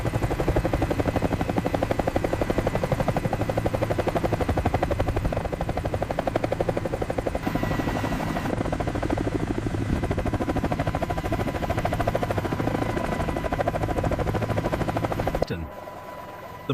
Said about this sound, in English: Coaxial rotor system performs flawlessly.